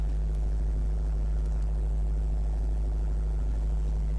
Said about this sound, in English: all you can hear is engine noise